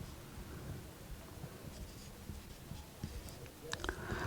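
Steady scratching of a pen writing on paper during a class 9 maths lesson, soft and continuous over a low room hum, with a few faint taps near the end.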